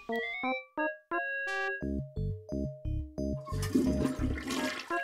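Toilet flush from the Day of the Tentacle video game, a cartoonish sequence of stepped tonal beeps and descending synth tones that gives way to a rushing, gurgling water swirl.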